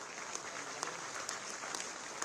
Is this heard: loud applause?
yes